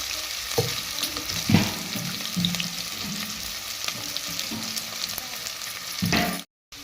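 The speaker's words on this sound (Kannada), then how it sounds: "ಎಣ್ಣೆ ಉಳ್ಳಾಗಡ್ಡೆ ಫಸ್ಟ್ ಹಾಕೊಂಡು ಫ್ರೈ ಮಾಡ್ಕೊಳ್ಳೋಣ" Onions fry in hot oil, a busy steady sizzle under repeated scraping and clanking stirs, with no one talking over it.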